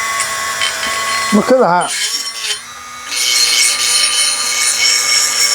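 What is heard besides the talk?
Dremel rotary tool with cutting wheel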